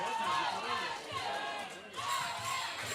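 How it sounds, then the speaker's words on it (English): A wrestling crowd chants in unison, rising and falling with the rhythm of the chant and mixed with loud commentary over it. "And the crowd chanting, OMG, oh my God, indeed."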